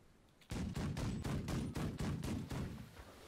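A weapon in the video game The Last Leviathan fires a rapid string of about eight sharp, loud shots in an even rhythm, each blast ringing briefly before the next.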